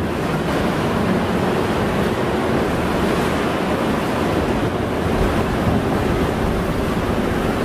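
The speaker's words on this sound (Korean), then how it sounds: "파도가 치면 저렇게" Ocean waves break and wash against a rocky shore above a sea cave on the Wakayama coast in Japan, a loud continuous roar of surf mixed with wind noise, with no voices.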